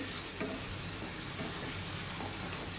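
Boiled green jackfruit with oil and spices sizzles and fries steadily in a pan, a continuous close hiss with faint stirring scrapes throughout.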